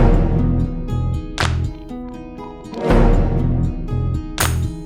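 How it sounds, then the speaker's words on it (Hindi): An orchestral kick drum sample standing in for the kick in a rock mix, booming deep hits pulse under dense distorted guitars, with crashing cymbal swells breaking through every couple of seconds. "मैंने एक्चुअल किक को बंद कर दिया है और मैंने सिर्फ वो ऑर्केस्ट्रल किक को रखा है"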